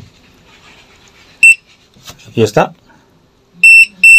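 A Sonoff alarm reacting to a hand passed before its motion sensor gives loud, sharp electronic beeps, one alone and then a quick pair near the end, with a short spoken phrase in between.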